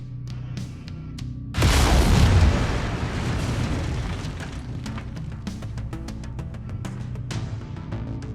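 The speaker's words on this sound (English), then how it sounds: "Lasers are mapped to Weapon Group 2. Fire them when ready." A mech firing its lasers in Mechwarrior 5 Mercenaries lets out a sudden heavy, booming discharge that swells and then slowly fades into a crackling rumble, over a steady mechanical hum dotted with small clicks.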